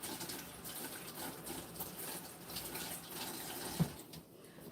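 Soft, steady stream of tap water running over soapy hands at a kitchen sink, a faint continuous splash with a small clunk near the end.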